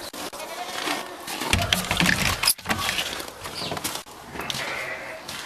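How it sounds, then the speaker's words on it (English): Hungry goats in a barn on a winter day call out with irregular, wavering bleats over rustling and shuffling, some cries close and loud, others farther off. "can hear the goats. They're talking to us."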